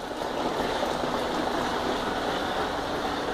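Oxygen bubbles streaming into aquaponic tanks in a greenhouse make a steady, dense fizzing and bubbling wash, continuous and even in level, moderately close, with no voices.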